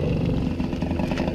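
A Moto Guzzi Cross 50 moped with a clutch problem runs close and loud, its small engine holding a steady, buzzing idle throughout.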